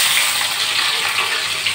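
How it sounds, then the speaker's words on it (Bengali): Potatoes tipped into hot oil with a bay leaf sizzle in a steady, even hiss, close and loud, with no voices. "তেজপাতা দিয়ে দিলাম তেলের ভিতরে, এবার আলুগুলো দিয়ে দিচ্ছি।"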